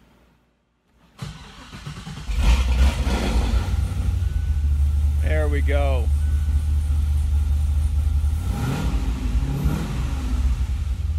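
A V8 engine swapped into a Mazda ND Miata fires up and settles into a deep, loud, close idle, with a brief rev partway through, while someone talks over it.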